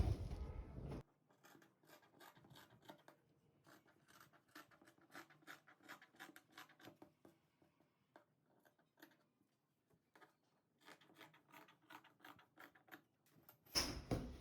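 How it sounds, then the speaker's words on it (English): Scissors snip through fabric along a drawn baby shorts pattern in quiet, rhythmic close-up cuts, pausing midway, with louder handling rustles at the start and end. "I'm going to cut this out now."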